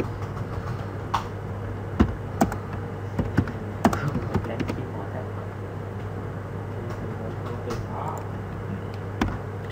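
Scattered taps and clicks on a computer keyboard during AutoCAD drafting work, irregular and fairly quiet over a constant low electrical hum.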